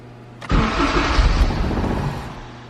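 Built K24 turbo Honda Civic EP3 engine with Hondata KPro, silent at first, then loud broadband cranking bursts into a rough running roar that holds steady and slowly fades, close by.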